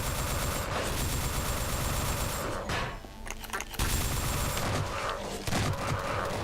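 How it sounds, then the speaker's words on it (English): Rapid shotgun fire rings out in the video game GunGirl 2, with dense, loud bursts of shots that stop briefly in a short gap before resuming. "when I think of a sound, for example for a shotgun, I immediately think of another game that has a sound of a"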